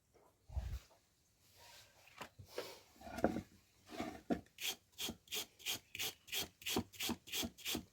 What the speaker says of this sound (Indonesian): Menggunakan sikat kawat boleh, sikat kawat yang halus, jangan yang kasar.